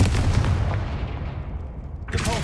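A Confringo fire spell goes off in the Hogwarts Legacy video game, a loud booming blast with a long rumbling decay, followed by another sharp magical burst at the end.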